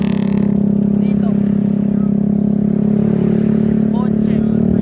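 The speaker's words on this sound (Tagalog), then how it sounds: "biglang tumawid yung kotse" A car on a highway near a river outing suddenly crosses the road, its steady engine drone and road rumble loud and close throughout, with faint talk in the background.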